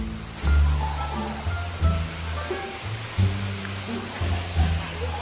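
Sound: mountain stream water flowing down

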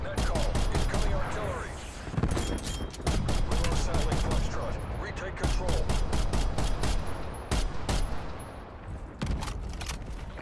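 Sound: gunfire from a video game shooter

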